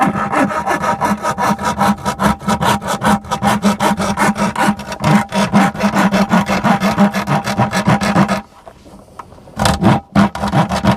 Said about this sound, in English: This should work right here, hacksaw